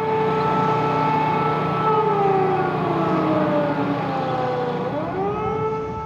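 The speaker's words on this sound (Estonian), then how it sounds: "Täna tehti Muuga sadamas katsetusi olemasolevate sireenidega." A civil defense warning siren is tested at Muuga harbour, sounding a loud, sustained wail whose layered tones hold steady and then bend downward near the end, with no other sound over it.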